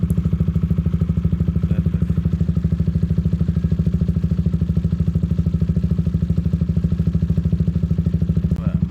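A motorcycle engine idles steadily near the exhaust, a loud, even low putter with rapid regular pulses that continues unchanged throughout.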